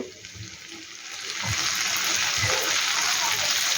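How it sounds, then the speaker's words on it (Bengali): Water is poured into a pan of partly cooked potatoes for an egg and potato dish, a steady splashing gush that swells after a quiet start and continues to the end. "এবার আমি এখানে একটু জল দেব।"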